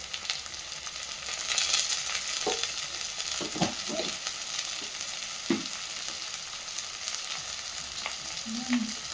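Turmeric and chilli powder stirred into bhola fish curry frying in a pan with a little water, a steady close sizzle broken by scraping spoon strokes and light clinks.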